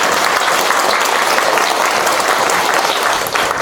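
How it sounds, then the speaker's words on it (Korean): A church congregation at a Sunday family service breaks into loud, dense applause that fills the whole stretch, many hands clapping together without pause and no voices on top. "박수 한번 쳐드려야 될 것 같아요"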